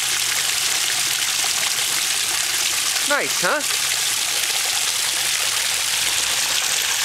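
Water trickles and splashes steadily from a garden pond waterfall kept running in winter, with icicles along its side; a person speaks briefly partway through, over the constant flow.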